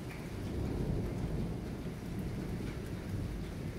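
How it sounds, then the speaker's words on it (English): A thunderstorm in Rome, with steady rain pattering on surfaces and low rumbling thunder rolling underneath, sustained and moderately loud, no voices. "Ooh, there's some lightning. Probably gonna thunder here in a second."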